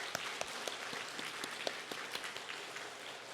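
Congregation applause fills a Friday church prayer service, a steady wash of many hands clapping with sharper individual claps popping through, moderately quiet and without speech.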